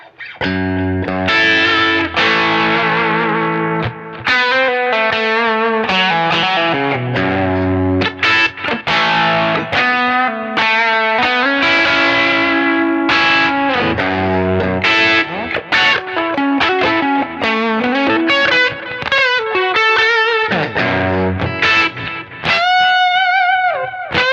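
Distorted electric guitar, a Stratocaster through a Benson preamp, plays a busy run of riffs and chords through an overdriven tone, loud and continuous, ending with a few bent notes.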